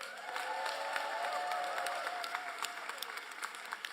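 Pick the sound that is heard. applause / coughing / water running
applause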